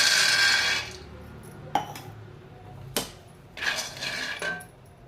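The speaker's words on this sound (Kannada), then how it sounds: "ಈಗ ನೋಡಿ, ಇದರಲ್ಲಿ 1 ಕಪ್ಪು ಕಡಲೆಕಾಯಿ ಬೀಜ ಹಾಕ್ಕೊತಾ ಇದ್ದೀನಿ." A cup of peanuts tipped into a hot kadai on the stove for roasting gives close metallic clatters and rattles, with a few sharp knocks spread across the stretch.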